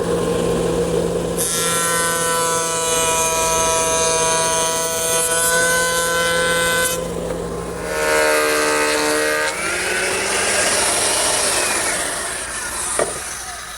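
A woodworking shaper spins a set of molding knives to cut a profiled edge on a wood panel blank, a loud sustained whine that steadies and then changes pitch as the stock passes through, with no talking.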